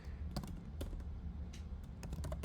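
Rapid typing on a computer keyboard, with crisp, irregular key clicks in quick bursts against a low steady background hum, with no talking.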